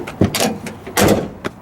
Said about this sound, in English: door shuts beautifully